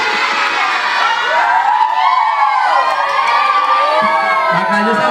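A crowd of children at a Ramadan Islamic boarding-school gathering cheers and shouts with high, excited voices. The sound is loud and continuous for the whole stretch, with overlapping calls rising and falling.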